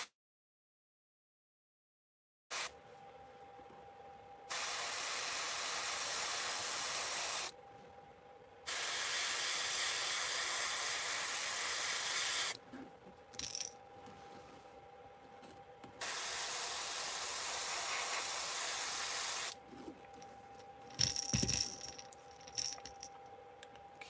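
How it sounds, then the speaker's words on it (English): Spray paint hisses onto a fishing lure through a stencil in three long, steady bursts of several seconds each, separated by short pauses, with a quieter steady hiss between bursts and faint clinks near the end. "got first couple sprays right there on the back of the bait"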